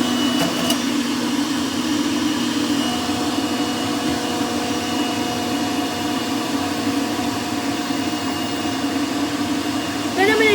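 A juicer grinds turmeric and apple in a steady, loud motor whir that holds for about ten seconds, with a brief change in pitch partway through and no talking.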